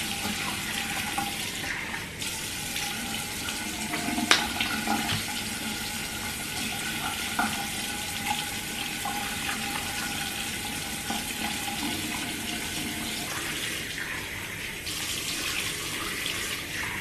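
Running tap water while face cleanser is rinsed off at a sink, a steady loud rushing stream with splashing and small knocks, continuous throughout.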